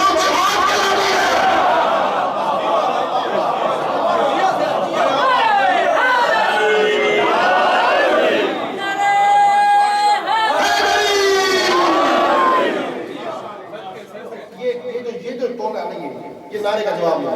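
Crowd at a Muharram mourning gathering in Barcelona shouting a religious slogan in unison, loud, massed voices rising in bursts with a lead voice, then fading into a quieter murmur at the end.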